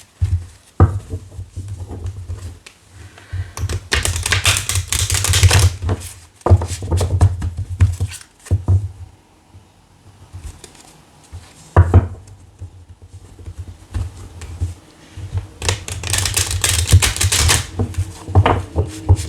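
Oracle cards are shuffled in repeated bursts of rapid, crisp riffling and tapping, loud and close, with short pauses between rounds.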